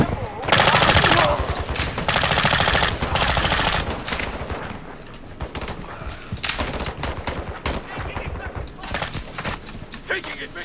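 Rapid automatic gunfire in Call of Duty DMZ, loud bursts of sustained machine-gun fire in the opening seconds, then scattered sharper shots and clatter, with someone talking over it.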